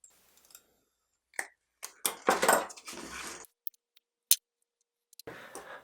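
Snips and crunches come from cutters biting into an old USB cord, with a few sharp clicks and short bursts of cutting noise spread unevenly between brief silences, close up and fairly quiet.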